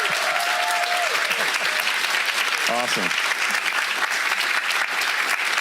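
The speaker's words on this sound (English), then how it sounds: "So, round of applause." At a retirement ceremony in Sutter County, an audience gives a sustained round of applause that fills the whole stretch evenly, while a voice briefly speaks over the clapping.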